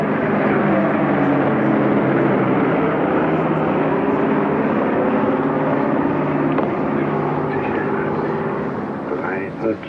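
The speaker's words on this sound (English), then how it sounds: "I count the planes that come to Tempelhof." Propeller planes drone steadily overhead on approach to Tempelhof airport, a loud, continuous engine roar that fills the whole stretch and eases off slightly at the end, with muffled voices beneath.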